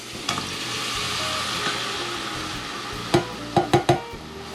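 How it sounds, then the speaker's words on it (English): Canned diced tomatoes go into a pot of green lentil soup with seasoning and are stirred, a steady wet sizzle and stir running throughout, then a few sharp spoon knocks against the pot near the end. No talking. "I'm gonna add 1 can of diced tomatoes"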